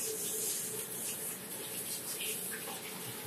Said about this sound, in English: I rinse my hands very fast.